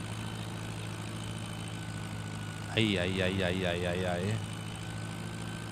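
A tractor engine labouring uphill in Farming Simulator 17, a steady low droning hum throughout, with a person briefly letting out a wavering exclamation over it partway through.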